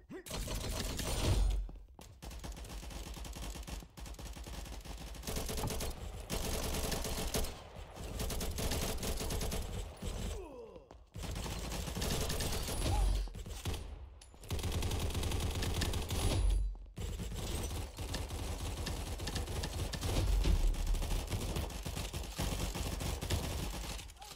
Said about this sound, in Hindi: ओ ये शॉटगन जैसे है।